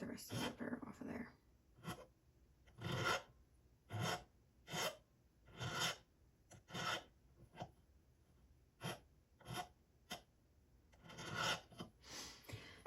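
Hand file rasping a burr off a metal stacking ring, about a dozen short, separate strokes at an uneven rhythm, close and fairly quiet, with faint breathing between strokes.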